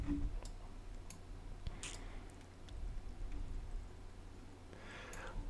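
Computer mouse clicks while modelling a coffee mug in Rhino 7, a few quick faint ticks spread out over quiet room noise, close and with no talk.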